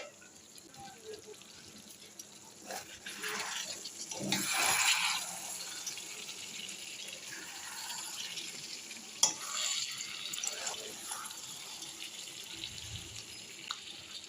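Mutton sizzles and is stirred in a pan for kasha, a soft frying hiss with occasional clinks and scraping, one brief louder burst of sizzle near the middle, fairly quiet overall.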